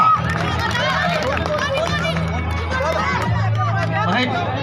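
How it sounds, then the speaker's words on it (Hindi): Spectators at a girls' kabaddi tournament in Haryana break into a steady, busy stretch of clapping and crowd noise, with voices chattering and calling out throughout. "जोरदार तालियां"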